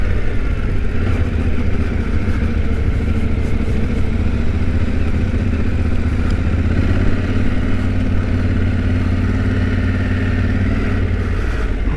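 A Yamaha Tenere T7 motorcycle rides off-road on a rough, holed track, its engine droning loud and constant up close, with wind rush and rattling over the full stretch.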